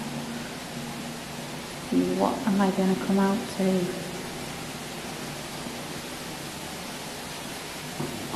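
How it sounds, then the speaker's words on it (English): Steady running water fills a dark stone tunnel at Hampton Court Castle, a continuous hiss throughout, with someone briefly speaking over it midway. "I can hear running water."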